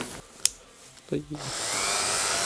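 A Mächtz MMG-280 rotary engraver fitted with a cutting disc for cutting a nail spins up after a sharp click and a brief clatter, then settles into a steady, high-pitched whine that continues to the end.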